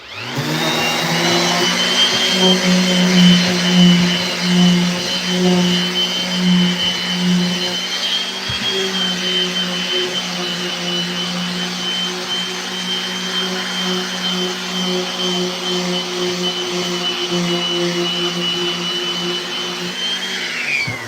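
A DeWalt orbital sander grinds steadily across a handcrafted skateboard deck under heavy pressure, a loud continuous whine and hum with a slightly pulsing low tone early on, holding for about twenty seconds with no talk.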